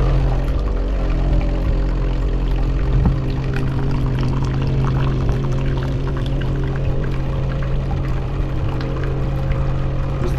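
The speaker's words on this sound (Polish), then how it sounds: "Leci woda." Hot water runs from a Philips espresso machine in a continuous, close pour over a steady low hum from the machine, with no one talking.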